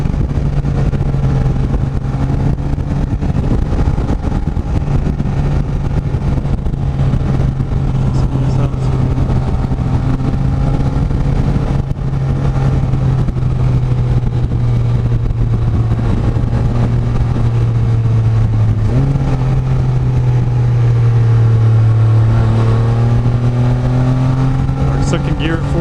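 A Can-Am Spyder F3-S three-wheeler at full throttle in second gear from 40, its engine note holding a loud, continuous drone that climbs and shifts pitch under heavy wind noise.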